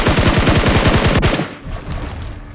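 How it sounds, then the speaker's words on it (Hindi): Rapid automatic gunfire from a BGMI (PUBG Mobile) shootout, a close, loud burst of evenly spaced shots for over a second, then a sharp cutoff into quieter rumbling and distant crackle. "अब यहाँ नीचे पे गोली चलती है"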